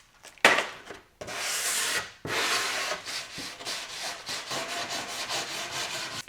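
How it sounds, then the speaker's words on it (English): Repeated rhythmic sanding strokes on a wood board, a steady scratchy rubbing pulsing in back-and-forth passes, loud and close with brief pauses between bursts. "sanding is pretty much done"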